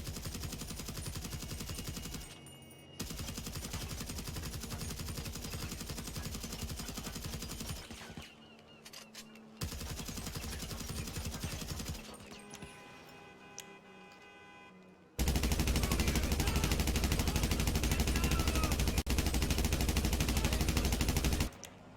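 Assault rifle fire in GTA 5, sustained loud automatic shooting in long stretches broken by brief gaps, ending in an even louder, continuous barrage.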